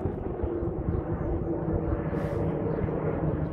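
A distant airplane passes over Stockholm, heard from the Skinnarviksberget viewpoint on Södermalm as a steady broad engine rumble.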